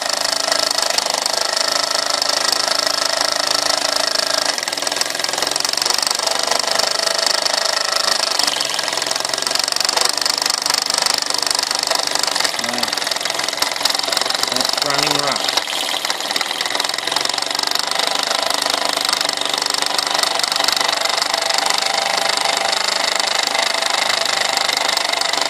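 A brass model steam engine, a Mamod SE1, runs for the first time, producing a loud, steady mechanical chuffing and rattling drone that holds unbroken throughout, close and alone without talk.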